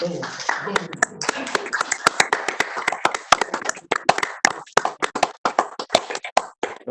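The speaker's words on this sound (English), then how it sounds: "all the council members were giving you applause as well there" Council members clap during a council meeting after a swearing-in, giving scattered, uneven claps and taps that sound close and sparse rather than forming a full ovation.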